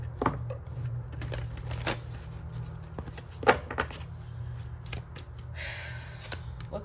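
Tarot cards being shuffled and gathered by hand, soft repeated riffling and tapping at close range, fairly quiet with no speech.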